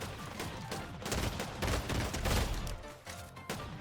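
Pistol fire in the video game Fortnite, heard as a dense run of rapid, overlapping gunshots and impacts that stays loud across the whole span.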